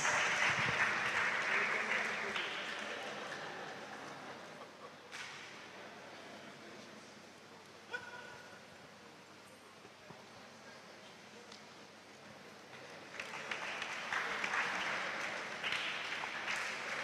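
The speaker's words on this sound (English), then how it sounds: "Applause." Lecture audience applauds at a university inaugural lecture, a loud wash of clapping that fades to a quieter patter in the middle and swells again toward the end.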